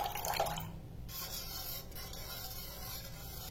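Vinegar water poured into warm milk to split it into chhena paneer, a steady trickling, rubbing wash of liquid heard alone, close and fairly constant.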